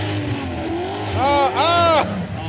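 An Alfa Romeo and a C6 Corvette launch side by side in a spectator drag race, engines revving up in loud rising howls that climb through the gears, with a commentator talking over them.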